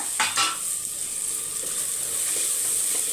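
Rice and peas sautéing in a pressure cooker for a pulao, with a couple of soft stirring scrapes near the start and then a steady, quiet sizzle and hiss throughout.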